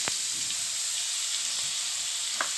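Finely chopped onions fry for pav bhaji, giving a steady, bright sizzle in the pan with a few faint clinks of stirring.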